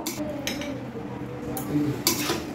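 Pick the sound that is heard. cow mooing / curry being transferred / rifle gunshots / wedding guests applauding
curry being transferred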